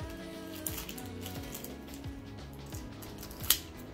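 Scissors cut open a Roblox toy package with a series of quiet, crisp snips and crinkles, ending with one sharper close click, all faint and without talk.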